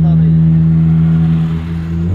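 Mercedes A200 fitted with a new exhaust revs loudly and close, a deep steady drone holding then easing slightly, with no talk over it.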